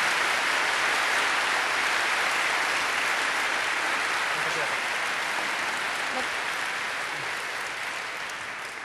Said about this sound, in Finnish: Otetaan vielä aplodit kaikille panelisteille.